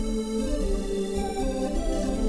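A bright, shimmering Logic Pro "Glass Space" synth lead with glassy overtones playing a sustained melodic line over low bass notes, steady and full.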